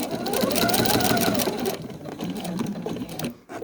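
A sewing machine stitching a quilt, a fast steady mechanical whir of the needle running close and loud, slowing and easing off toward the end with no voice.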